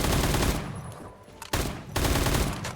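Loud automatic gunfire in the Roblox-style shooter Phantom Forces from an AK-type rifle, two long sustained bursts separated by a brief pause, close and dominant with no talk.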